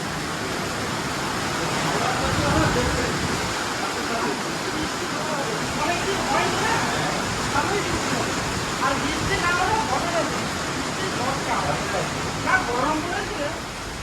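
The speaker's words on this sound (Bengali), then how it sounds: "বৃষ্টিটা হালকা কমেছে এখনই এখানটায়, পুরো এখানটা ভিজে গেছে" Steady rain falls at Mandarmani, a Bengal seaside resort, by a swimming pool, a dense broadband hiss that continues evenly throughout with no break.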